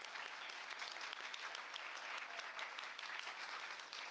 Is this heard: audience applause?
yes